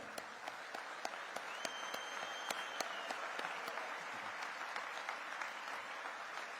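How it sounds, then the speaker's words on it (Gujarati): An audience stands and claps in tribute at a formal public function attended by a Chief Minister, producing steady, fairly faint applause with sharp individual claps and no voices. "બધા મિત્રોને કહું એકવાર ઉભા થઈને સાહેબ માટે 1 મિનિટ માટે તાળીઓ પાડે"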